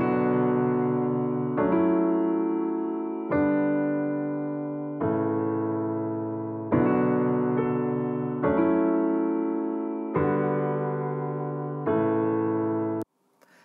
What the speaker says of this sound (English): I drag this piano loop into Live